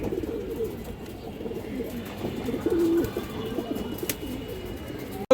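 A big-sized pair of Indian high-flying Kaldam pigeons coos in a low, steady murmur, with soft background noise and no speech.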